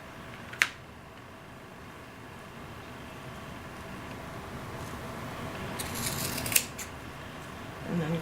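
Scissors snipping the ends of a beaded Christmas garland made from dollar-store ornament balls, two sharp close clicks a few seconds apart over a soft room hush, with faint handling rustle in between.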